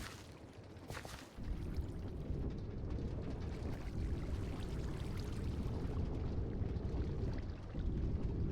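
Water pouring into a Minecraft build with the Create mod, a steady broad rushing wash that runs continuously after a short splash near the start and stays loud throughout.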